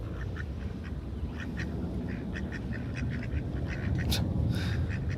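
Ducks quacking on the water near a Venice and Santa Monica beach walk, with repeated short, close quacks in a steady scatter over continuous outdoor background noise and no talking.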